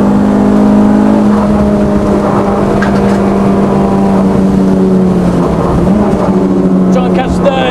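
Renault Clio RenaultSport 172, tuned to 198 bhp and around 900 kg, holds a steady loud engine drone on a race track with shifting tones through gear changes, a voice talking over it.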